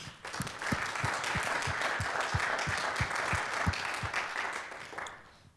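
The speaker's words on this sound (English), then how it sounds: "Round of applause for all our sponsors." An event audience applauds its sponsors with a broad wash of clapping that holds steady for several seconds, while a low rhythmic thump pulses beneath it, then the sound fades out at the end.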